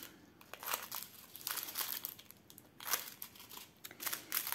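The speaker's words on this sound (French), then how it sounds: "Déjà, je vais les découper par deux." Plastic packets of diamond painting supplies being cut in two, close and quiet: crinkling and rustling of plastic with small snips and handling noises, in uneven bursts and without talk.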